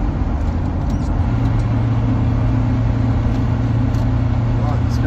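A Volvo 245 estate car with no power steering, driven on an overtaking lane, makes a loud, steady interior drone with a low engine hum that rises in pitch partway through, continuous and close.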